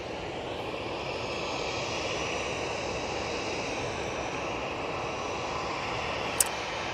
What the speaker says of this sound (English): This EasyJet A320neo is off to Lisbon. It's coming over now.